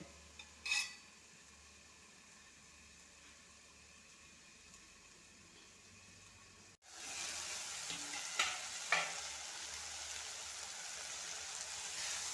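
Ivy gourd and soya curry in a pan, first a quiet covered simmer with a clink, then the lid comes off and a bright, steady sizzle rises with a few scraping stirs.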